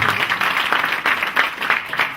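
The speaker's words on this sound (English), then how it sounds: "let's clap for the members of the county assembly" An audience at the launch of a county sanitation strategy in Nakuru claps for county assembly members, a short, even burst of many hands at moderate distance with no talk.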